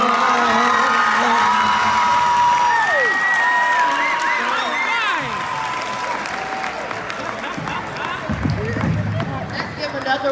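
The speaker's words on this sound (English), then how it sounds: "Let's give another round of applause." Sustained audience applause and cheering at a school Black History program, with whoops and shouts running over steady clapping, loud and dense throughout.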